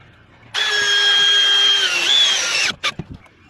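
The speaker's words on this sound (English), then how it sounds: "Now I put extra screws here because it's the center of the board." A battery drill drives screws into a board for a sagging roof or ceiling fix, a loud close whine lasting about two seconds with a slight pitch drop, followed by a few clicks and knocks.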